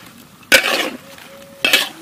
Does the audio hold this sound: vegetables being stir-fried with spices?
yes